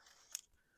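Scissors make a single quick, faint snip through paper while a simple gift card holder is trimmed, with near silence around it.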